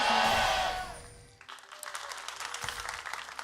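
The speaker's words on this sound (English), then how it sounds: "I definitely heard some fan cheering before the fan chant." Crowd of fans at a League of Legends LCK esports match cheers and applauds, a loud roar of mixed voices fading into scattered clapping and crowd noise.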